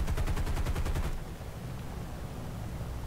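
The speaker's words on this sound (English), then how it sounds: "Try to take him out with a machine gunner in the nose." A B-17 bomber's nose machine gun fires in the War Thunder combat game as one rapid, loud burst lasting about a second. A deep engine-like rumble of the aircraft carries on alone afterwards.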